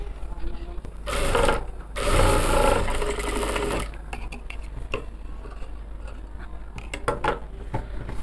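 A sewing machine stitches the side seam of a churidar-style nighty. It runs in close, loud mechanical bursts and pauses briefly, then continues with lighter clicking and rattling.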